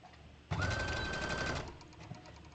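A sewing machine runs in one steady burst of about a second, stitching the side seams of a T-shirt dress, with a close motor whir that starts abruptly and then stops, followed by quiet.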